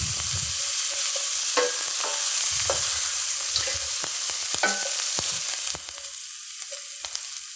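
Minced onion and garlic sauté in a hot pan, with a steady close sizzle broken by repeated scraping stirs of a utensil against the pan, and no voices.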